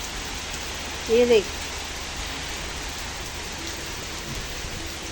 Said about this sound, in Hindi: बारिश हो रही है ना बाहर